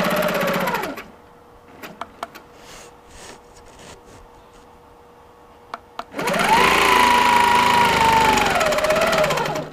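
A sewing machine quilts a geometric square on a quilt, running in two bursts of steady whirring, with a quiet pause between them broken by a few faint clicks.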